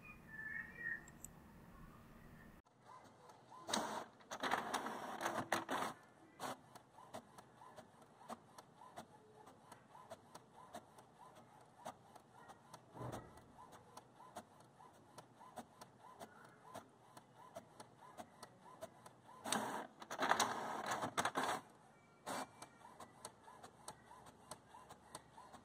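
An HP Ink Tank 415 wireless printer runs a print job, its steady mechanical whir and feed noise carrying on throughout, with louder bursts of paper handling and carriage movement near the start and again toward the end.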